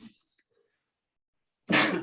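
A single sharp, explosive sneeze bursts out near the end after a brief quiet pause, close and loud.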